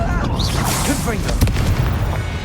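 A Confringo blasting curse goes off in Hogwarts Legacy: a loud, rumbling boom with crackling bursts, mixed with game voices and effects.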